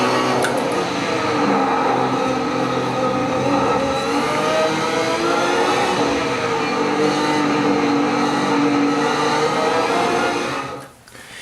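Race car engine in a sim racing game, driven with Fanatec CSL pedals, drones loud and steady with layered revving harmonics for about ten seconds before cutting off abruptly near the end.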